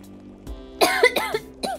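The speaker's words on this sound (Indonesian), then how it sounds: "Aduh, batuk deh." A person coughs several times in quick succession, sharp and close, with a short rough throat sound before the coughs.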